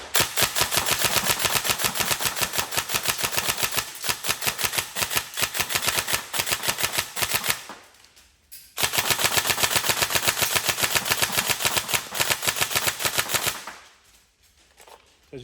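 A Tokyo Marui MK18 NGRS airsoft gun fired in rapid single shots, a fast even clatter of mechanical cracks in two long bursts, each ending in a short pause, close and loud.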